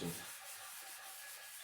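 Hand sanding rubs steadily over a workpiece at a workbench, a soft continuous scratchy hiss heard close and faint, alone without speech.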